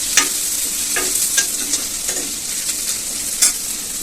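Onion, garlic and tomato sautéing in oil for a home-style Tamil fish curry, a continuous soft sizzle broken by several scraping strokes of a spoon stirring the pan, close and without talk.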